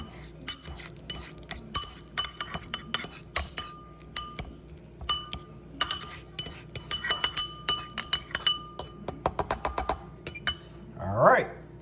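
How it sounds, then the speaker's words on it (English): Fork mashing roasted garlic into a paste in a bowl, with rapid repeated clinks and taps of metal on glass, close by, with a voice talking. "we're gonna mash it into a paste with this fork"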